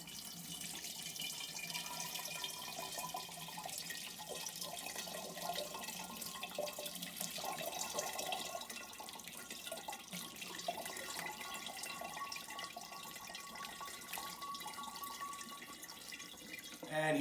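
Homemade apple cider pours and trickles through a metal steamer basket, a steady splashing, running-liquid sound that holds evenly for the whole stretch, close by and moderately loud.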